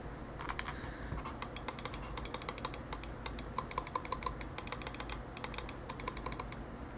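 Rapid, loud clicks from the optical switches of a Logitech G Pro X Superlight 2 mouse, pressed in quick irregular bursts, close-up and alone with a steady low background hum.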